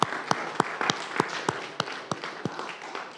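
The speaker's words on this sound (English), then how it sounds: "Let's give him a round of applause, everyone." Scattered applause in the Alabama Senate chamber, a small group clapping in sparse, fairly evenly spaced individual claps, modest in volume and without talk over it.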